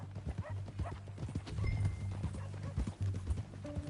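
Horse hooves clip-clop in a steady, close rhythm in the video game Red Dead Redemption 2, with low rumbling tones underneath and a brief snort.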